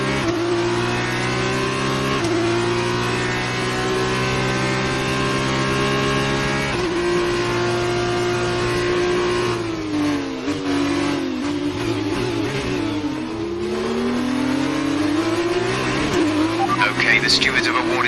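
Formula 1 car engine in the F1 2019 racing game, a steady high-pitched whine with shifting revs and gear changes throughout, loud and continuous, with an engineer's voice talking over it.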